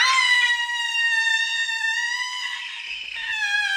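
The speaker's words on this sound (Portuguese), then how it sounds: "Mesmo com esse grito enorme, a taça não quebrou." A loud, sustained child's scream held at full voice for several seconds, aimed at shattering a drinking glass in a family home, with a strong, bright harmonic tone that wavers slightly but never breaks.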